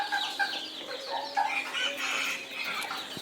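Silver Cochin, White and Black-tailed Japanese Bantam hens and Golden Sebright chicks sunning outdoors make soft, scattered clucks and murmurs at moderate distance over light background noise.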